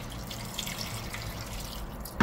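Water is poured into a pot of peeled pumpkin and vegetables for soup, a soft, steady trickle and splash in a quiet kitchen with no talking, ending in a brief louder clunk.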